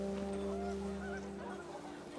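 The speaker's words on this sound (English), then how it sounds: "The wind picked up and panicked geese appeared and quickly went." Panicked geese honk in the video game What Remains of Edith Finch, a brief flurry of nasal honks over a steady droning backdrop of wind and game ambience.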